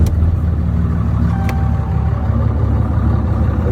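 A 2014 Dodge Ram 3500 with the 6.7 diesel, custom exhaust and S&B air intake idles close by, a deep steady low rumble with a brief faint higher tone, no talking.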